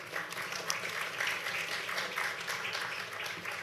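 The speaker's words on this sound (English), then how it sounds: "So if you give a round of applause for Maggie and our panelists." Audience applause for a moderator and panelists at a geospatial data conference session, steady mid-distance clapping from a seated crowd that holds evenly throughout.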